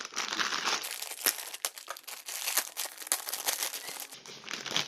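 Crinkling and tearing as the box of a helmet mount is opened, dense close-up rustles of cardboard and plastic packaging with sharp crackles scattered throughout, no voice.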